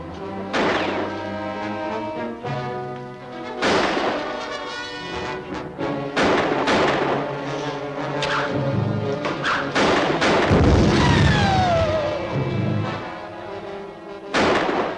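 A hand grenade blast in a 1953 jungle adventure film set in Africa, heard as heavy booming thuds and crashes that repeat over a dense, loud soundtrack with no talk.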